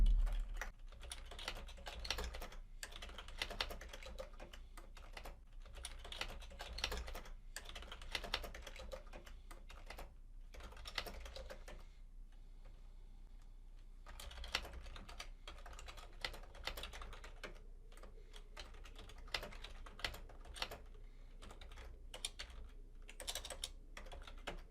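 Fast typing on a computer keyboard, bursts of rapid key clicks with brief pauses between phrases, close and fairly quiet, no talk.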